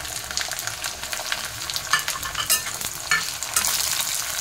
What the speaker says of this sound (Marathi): आता आपण टोमॅटो टाकूया, मिरची टाकूया